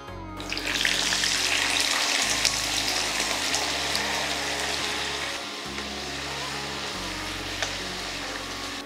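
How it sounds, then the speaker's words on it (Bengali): A little water poured into a pan of half-fried potatoes gives a loud, close rushing splash and hiss that carries on evenly for several seconds, with no voices. "এবারেতে দিয়ে দিন অল্প পরিমাণ জল, ফুটতে দিন এবং হালকা রস থাকতে আলু নামান"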